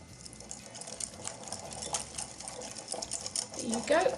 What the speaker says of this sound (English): I'm just going to whisk this all together